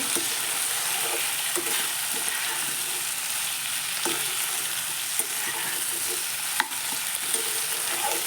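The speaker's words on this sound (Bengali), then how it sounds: "হলুদ গুঁড়োটা দিয়ে একসঙ্গে একটু ভালো করে মিশিয়ে নেব" Turmeric is stirred into pointed gourd and potato pieces frying in a pan. A constant hissing sizzle runs throughout, with scattered light spatula clicks and scrapes close by.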